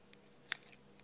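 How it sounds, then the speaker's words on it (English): One quick, close snip of scissors trimming the foam head of a Splat Rat foam mouse fly, a single brief cut in an otherwise quiet room. "We're going to trim that head down."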